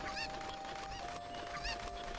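A cucco in the Zelda: Ocarina of Time video game clucks three times in short, evenly spaced bursts over continuous in-game music and ambience.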